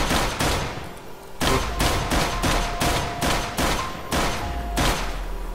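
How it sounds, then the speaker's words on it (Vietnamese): Guns fire at zombies in the Minecraft game, loud shots cracking one after another in a steady, rapid series that fills the whole stretch with no talk. "mình sẽ lấy súng ra xử bọn này mới được."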